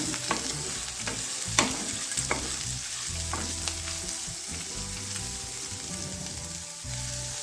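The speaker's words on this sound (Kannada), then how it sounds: "ಚೆನ್ನಾಗಿ ಫ್ರೈ ಮಾಡ್ಕೊಳ್ಳೋಣ" Radish chutney ingredients fry in a pan with a continuous crackling sizzle, punctuated by sharp scrapes of a spoon stirring, and no voices.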